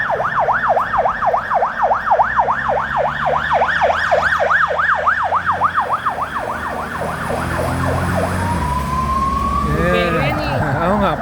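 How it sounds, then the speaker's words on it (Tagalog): Fire truck siren wailing loudly in a steady rapid rising-and-falling cycle, then shifting into a long rising tone and a faster yelp, heard outdoors near a museum in Australia with traffic rumble and people talking nearby. "It's fire truck."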